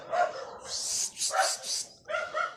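Several dogs bark and yip in quick, overlapping bursts nearby, loud and excited, with a short pause before the final barks.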